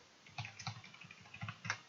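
Brief burst of typing on a computer keyboard, a handful of close, crisp key clicks in an uneven rhythm, fairly quiet, with no voices.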